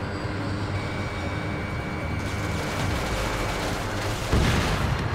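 Jet cannon fire in Ace Combat 7, a dense continuous rattling roar under engine noise, with a louder burst near the end and no talk.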